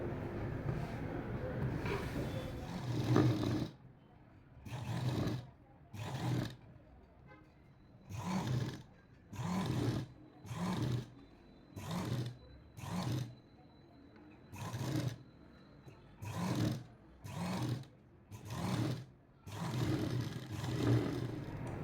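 A sewing machine stitches piping onto a blouse in a steady series of short, even runs, each lasting about a second with brief gaps between, close and moderately loud after an opening stretch of mixed sound.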